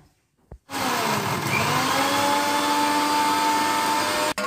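A mixer grinder roars loudly and continuously for about four seconds while coarsely grinding chopped spinach, starting abruptly after a short thump and cutting off sharply at the end.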